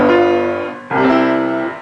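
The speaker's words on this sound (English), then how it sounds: "a minor chord based on scale degree 2 or re" Two sustained chords on a pitched instrument, a minor chord built on the second scale degree acting as a predominant, the first fading before a second clear strike rings out alone.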